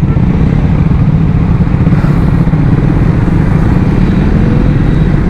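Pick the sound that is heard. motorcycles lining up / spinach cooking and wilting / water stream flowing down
motorcycles lining up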